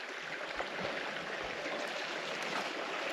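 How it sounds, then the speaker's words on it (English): Water in a creek flows in a continuous, soft broadband rush, close and even throughout, with no voices. "I love the sound of water moving."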